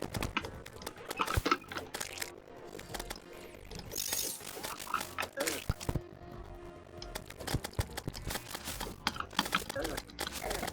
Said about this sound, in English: You're gonna hear a lot of mouse clicking.